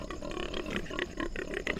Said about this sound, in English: That's the nicest greeting you can get from a pig.